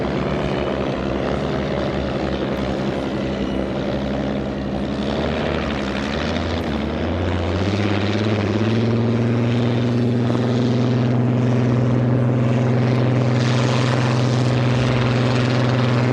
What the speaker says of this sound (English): There's just that distinctive rumble to the Rolls-Royce Griffin